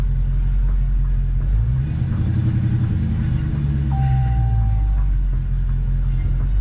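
A Dodge SRT Scat Pack car's engine rumbles loud and close as gas is applied, the deep drone swelling and rising in pitch through a gentle acceleration before settling back.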